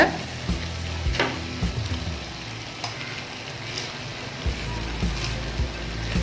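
Cooked rice being stirred and tossed into a tamarind tempering in a frying pan for temple-style puliyodharai, with a steady low sizzle and scattered clinks and scrapes of the spoon against the pan, close and moderately loud, no talking.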